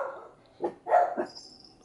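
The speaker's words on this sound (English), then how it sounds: "Now the dogs are barking." Dogs barking indoors at a home, a few separate barks at moderate distance with a faint high-pitched tone in the background.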